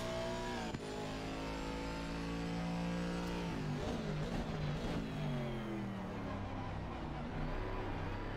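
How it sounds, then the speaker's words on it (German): Race car engine at Donington Park in a racing video game, a loud steady drone whose pitch falls and bogs down as it struggles to pull, then climbs again, with no talk over it. "achtet mal auf den Motor jetzt"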